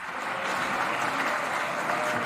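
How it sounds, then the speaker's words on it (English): Members clapping in the Knesset plenary chamber during the Israeli prime minister's swearing-in ceremony, a steady, moderately loud spread of applause that carries on evenly with no talk over it. "Please avoid clapping"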